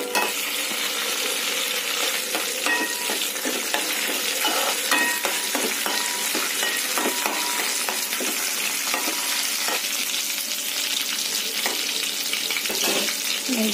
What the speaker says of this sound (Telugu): ఫ్రై చేయండి.